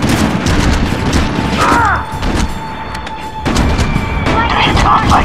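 Gunfire in the PS3 shooter SOCOM 4 U.S. Navy SEALs, loud rapid bursts and booming shots in a dense battle mix, with soldiers shouting over the fire.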